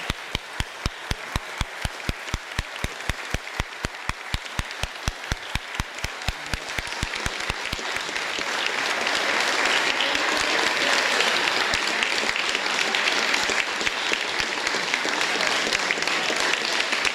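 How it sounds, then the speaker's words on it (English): Audience applause at a community gathering, beginning as a few sparse claps that swell within seconds into dense, steady clapping from a crowd, holding loud and continuous to the end. "So let's have a round of applause for everybody."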